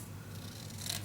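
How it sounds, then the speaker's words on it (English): Scissors cut paper for a scrapbook pocket, a brief soft rasping snip close by over a low steady hum, with no talking. "but I also can use my scissors."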